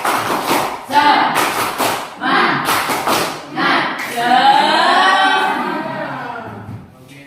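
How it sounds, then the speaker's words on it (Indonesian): Schoolchildren in a classroom perform a rhythmic spirit clap, with quick bursts of clapping in patterned groups while their voices chant along and then carry on alone. "Tepuk semangat."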